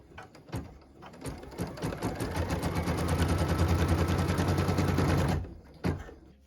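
A sewing machine stitches a tack-down line on a quilt piece, starting with a few separate thumps, then running in a steady, rapid mechanical chatter for a couple of seconds before stopping, followed by a final clunk, close and alone.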